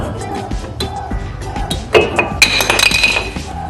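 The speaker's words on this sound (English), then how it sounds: "Now we have to slide out this caliper." Car brake caliper being slid out of its mount, with sharp metallic clinks and rattles of tools and parts close by, louder bursts in the second half over a low background.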